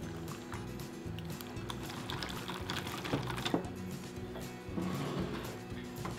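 Sour cream being mixed into scone batter in a bowl by hand, with soft irregular clicks, scrapes and wet squelches, quiet and close, no talking.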